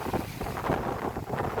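Strong wind with rain gusts across an open outdoor spot, roaring and buffeting the microphone in a loud, continuous rush.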